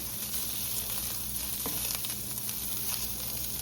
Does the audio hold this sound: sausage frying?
yes